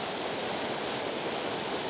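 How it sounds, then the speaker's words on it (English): Texas Creek, swollen and turbid with snowmelt, rushing violently in a continuous loud broadband roar of water, close by and steady, with no voices. "You can see that with all the snow melting, it's quite turbid and violent."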